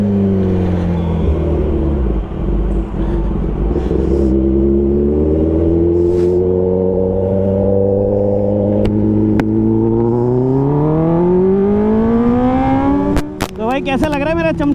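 A 2024 Kawasaki ZX10R motorcycle ridden up close, its engine note climbing steadily in pitch through a long, loud rev, then a few sharp throttle blips at the end.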